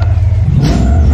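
A Bugatti car accelerates hard, a loud, close, steady engine roar with deep rumbling low tones lasting the whole brief moment.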